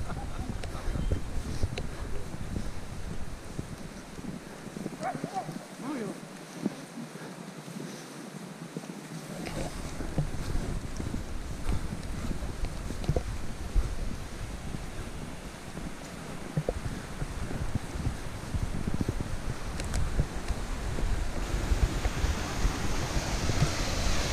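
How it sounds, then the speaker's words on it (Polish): A mountain waterfall near Śnieżnik peak gives off a steady broadband rush of falling water, with wind noise and people talking quietly nearby. "Piękny wodospad."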